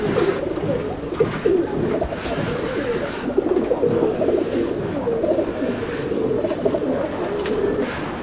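Chennai breed pigeons coo continuously inside a loft, a dense, close murmur of many birds layered together without pause.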